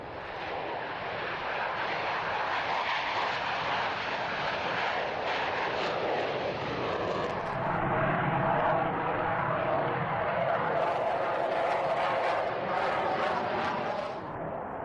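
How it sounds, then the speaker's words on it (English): A de Havilland Sea Vixen jet fighter flies a display at the Cosford airshow, its loud, steady engine roar filling the air continuously and swelling slightly with a sharper whine toward the end. "The Sea Vixen was the last in the line of classic de Havilland fighters."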